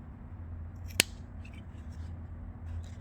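Scissors give one sharp snip while cutting small notches into the collar fabric of a baby dress, a single crisp cut over a quiet room hum.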